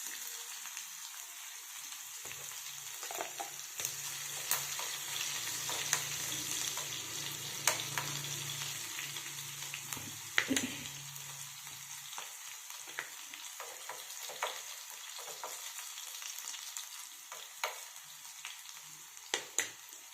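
Garlic sizzles and crackles steadily in a hot pan while being cooked for menthe kadabu, with occasional stirring clinks and scrapes over a continuous frying hiss.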